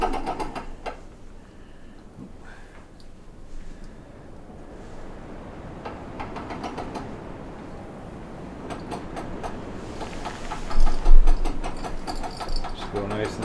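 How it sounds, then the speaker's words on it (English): The crank of an archery draw board is turned, a soft mechanical ratcheting and clicking that builds in bursts toward the end, close by, with a person talking faintly underneath. "And then just start turning the crank."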